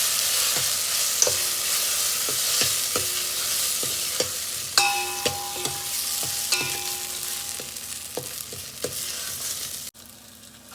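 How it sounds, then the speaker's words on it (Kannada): Ground masala paste frying in a pan for Karnataka-style majjige huli, a steady hissing sizzle broken by regular scraping knocks of a spoon stirring roughly once a second, close and clear without talk. "ಈಗ ರುಬ್ಬಿಟ್ಕೊಂಡಿರುವಂಥ ಮಸಾಲೆನ ಸೇರಿಸ್ತಾ ಇದ್ದೀನಿ. ಅದನ್ನು ಸ್ವಲ್ಪ ಫ್ರೈ ಮಾಡ್ಕೊಳ್ಳೋಣ."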